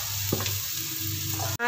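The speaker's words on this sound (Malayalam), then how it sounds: "മാങ്ങ ചേർത്തിട്ട് നന്നായിട്ട് ഇളക്കി കൊടുക്കുക കേട്ടോ" Mango pieces are stirred into sizzling oil with ginger, green chili and curry leaves, making a short, close hiss with a soft scrape of stirring and a sharp clunk at the end.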